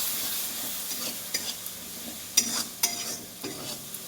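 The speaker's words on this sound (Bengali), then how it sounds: "জলটা দিয়ে নাড়বো, তাহলে মশলাটা লেগে যাবে না" A spoon stirs chicken liver masala with added water in a pan, soft sizzling beneath a few sharp scrapes and knocks against the pan, close and moderately quiet.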